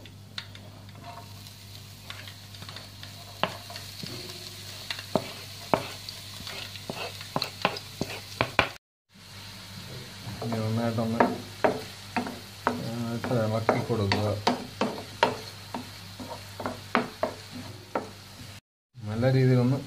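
Sliced onion frying in a pan for a Kerala beetroot thoran, a steady sizzle broken by frequent scraping and stirring knocks of a spoon against the pan, close and fairly loud, with brief gaps.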